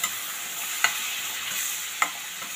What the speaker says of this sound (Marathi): आता आपण टोमॅटो पूर्ण शिजेपर्यंत आणि तेल सुटेपर्यंत ह्याला परतून घेणार आहोत.